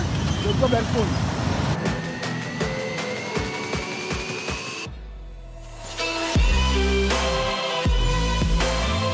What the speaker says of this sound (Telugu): చూస్తున్నారు కదా ట్రాఫిక్ ఏ విధంగా ఉందో ఇక్కడ